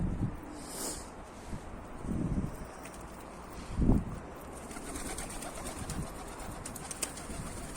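Pigeons at a loft during a snowy outing make soft coos and brief wing-flapping bursts close to the microphone, with light wind noise in the background.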